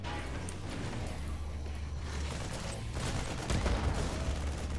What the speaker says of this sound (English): the Reaper is actually getting shot at